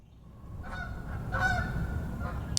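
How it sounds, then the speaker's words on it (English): Faint, distant honking of several Canada geese flying over comes in a few scattered calls over low background rumble. "A flock of Canada geese flying over."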